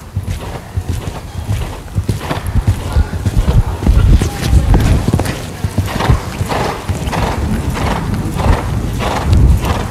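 Horse hooves clip-clop in a steady rhythm as the horse is worked over a line of show jumping fences in a training session, loud and close, with occasional snorts and a rider's voice talking over it.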